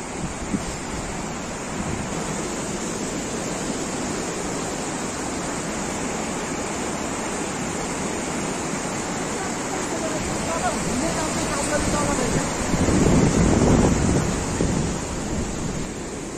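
The Marsyangdi river rushes near the Chame hot spring in Manang, a steady, loud wash of flowing water that swells slightly toward the end, with voices faint beneath it.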